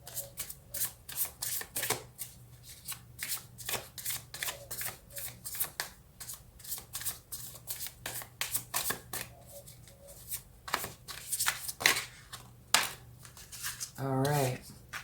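Tarot cards are shuffled by hand in quick, repeated riffling bursts, close and crisp, with a person talking intermittently between the shuffles.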